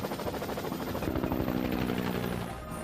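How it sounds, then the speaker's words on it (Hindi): Helicopter in a hilly wooded area of Kashmir, a steady loud rotor thrum and engine whine that swells slightly and fades near the end, with no talk. "यहाँ मेरा हेलीकॉप्टर नहीं उतर सकता"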